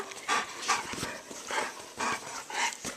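A Golden Retriever pants close by in a quiet room, a steady rhythm of quick, breathy huffs repeating about twice a second with no talk over it.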